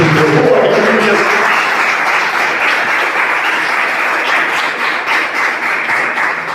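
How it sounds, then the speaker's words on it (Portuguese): A church congregation claps for Jesus during a sermon, a loud, dense burst of applause that holds steady and tapers slightly toward the end; a voice is briefly audible at the start. "Palmas para Jesus"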